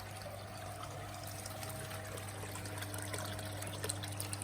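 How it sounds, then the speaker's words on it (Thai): Water runs steadily into a homemade glass-sided pond, a continuous low trickle and pour with faint bubbling that holds at an even level throughout, with no speech. "นี้ก็เติมน้ำได้ระดับเรียบร้อยนะครับ"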